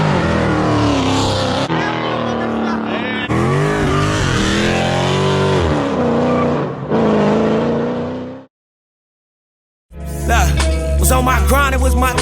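A Dodge Challenger Scat Pack with JBA longtube headers and a straight-pipe exhaust roars past loud and close, its engine note rising and falling, then cuts to silence before a deep, heavy rumble returns.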